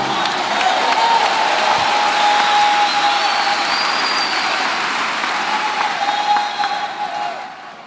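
An audience claps loudly and steadily at a youth counselling talk, a dense sustained wash of applause that fades slightly toward the end.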